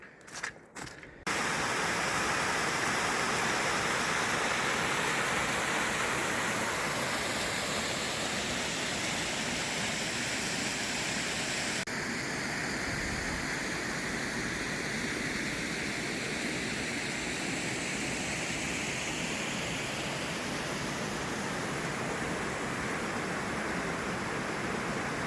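A river flows through native woodland with a steady, full rushing of water that runs unbroken for the whole stretch, after a brief knock at the start.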